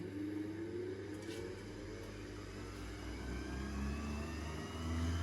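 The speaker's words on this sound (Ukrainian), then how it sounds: "Треба деякий час почекати, поки мотор не розженеться повністю." A milk separator motor hums steadily with a low drone, rising slightly in pitch as it spins up, continuous and fairly quiet throughout.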